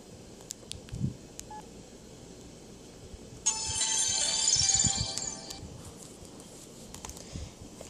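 An old LG Cosmos cell phone with water damage plays a short electronic power-off melody of about a second and a half, rising over quiet handling clicks and faint rustling.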